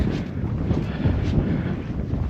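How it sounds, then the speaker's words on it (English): Cold wind buffets a misty mountainside in Snowdonia near Stwlan Dam, a steady roar of gusts battering the microphone throughout with no voices. "that wind's still really cold"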